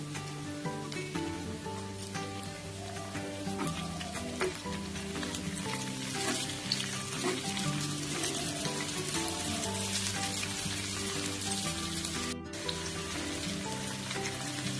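Chopped tomato hits hot oil while frying a whole lote fish curry, raising a dense, loud, continuous sizzle that crackles like rain and holds steady throughout, close up with no talking.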